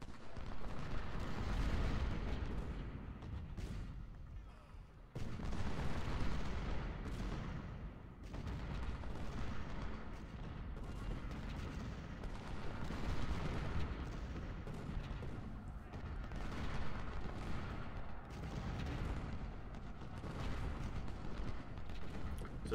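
Musket volleys and artillery fire in the video game Ultimate General: Civil War, a steady rolling crackle of gunfire punctuated by deep booming cannon shots, continuous over the whole stretch with a faint voice now and then.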